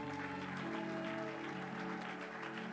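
A church congregation applauds and cheers steadily as a woman pastor walks forward during a worship service, with sustained tonal music or singing running underneath throughout.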